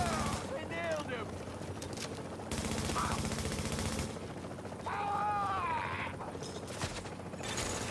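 Gunfire bursts crackle through a tense firefight in The Division video game, heavy rapid shooting mixed with mechanical clatter, while a voice talks over the action at moderate loudness.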